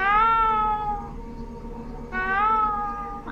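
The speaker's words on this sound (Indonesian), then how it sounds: "dengan kemunculan anaknya yaitu si Toshio yang ditandai dengan suara kucing." Cat meowing twice in a drawn-out, plaintive tone, clear and close, with a short quiet gap between the calls, used as the eerie sign of Toshio from the Japanese horror film Ju-On.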